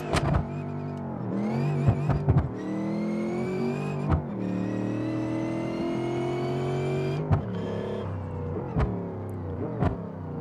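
The turbocharged engine of a 200BX Rotsun car in the driving game BeamNG.Drive revs and drones with a high turbo whine, easing off and building again several times, loud and close.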